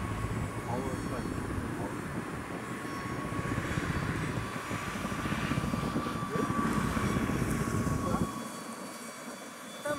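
A small UMX Habu S 180 28mm electric ducted-fan RC jet whines steadily as it climbs and flies at a distance, while people chat in the foreground. The whine drops away near the end.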